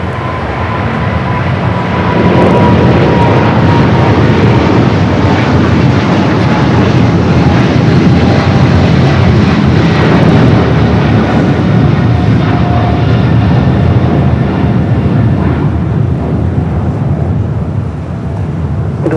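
An Austrian Airlines Boeing 777-200ER jet departing from Los Angeles airport, a loud, steady broadband engine roar that holds constant for nearly twenty seconds and eases slightly near the end.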